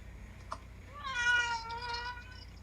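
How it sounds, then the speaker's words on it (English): A whiny house cat meows in one drawn-out, wavering cry lasting over a second, fairly close and clear over a quiet room background, with no talking. "That's a very whiny cat."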